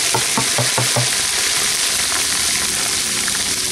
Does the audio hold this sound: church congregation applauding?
no